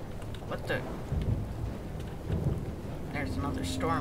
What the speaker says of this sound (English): There's another storm on the surface.